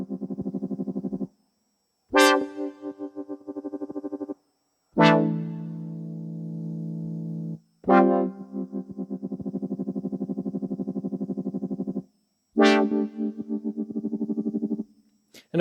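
An Arturia MicroFreak synthesizer plays a buzzy, distorted patch with fast rhythmic modulation, several sustained notes with sharp attacks separated by short gaps, close and alone without talk.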